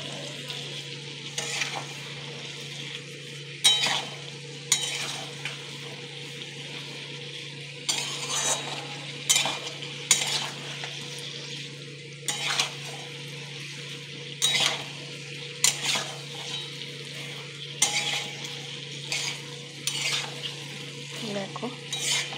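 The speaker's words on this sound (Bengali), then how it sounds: "একটু কষিয়ে নিচ্ছি।" A spiced mixture with sugar, tomato sauce, ghee and garam masala sautéed in a pan, a continuous sizzle broken by repeated scraping and clinking strokes of a spoon, close and steady, with no talk.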